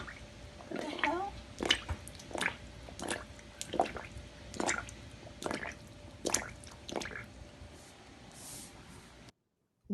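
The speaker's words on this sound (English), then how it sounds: "Water is coming through the foundation of the kitchen of her apartment" Water leaks through the foundation of an apartment kitchen, heard as a series of faint, irregular drips and squishy splashes spread across several seconds.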